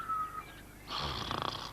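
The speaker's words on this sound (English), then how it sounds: "I can hear someone snoring over by the paddling pool." A single loud, raspy snore rattling close by near a paddling pool, preceded by a faint whistling tone, from an animated cartoon.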